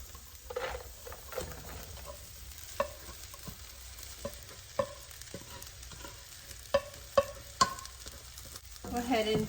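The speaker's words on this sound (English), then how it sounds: "Go ahead and give it a good mix here." Cooked white rice being stirred and mixed in a hot pan for shrimp fried rice, a soft continuous scraping sizzle broken by several sharp utensil clinks against the pan, close and moderately quiet with no talking.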